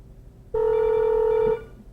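A single telephone ring from a call placed through a TAPI dialer on a 1993 Microsoft setup, one steady electronic tone lasting about a second, clear and close in an otherwise quiet room.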